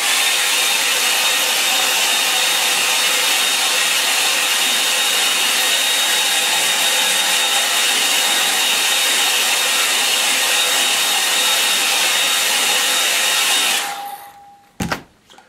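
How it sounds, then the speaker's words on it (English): A hairdryer blows on a watercolour painting as a steady, loud whooshing hum that runs continuously for about fourteen seconds before being switched off, leaving brief small knocks. "I might give it a bit of a hand with a hairdryer"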